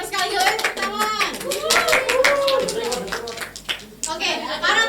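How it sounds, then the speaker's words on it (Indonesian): Students in a classroom clap together in a short burst during a microteaching lesson, the claps mixed with children's voices and a teacher talking over them. "tepuk tangan"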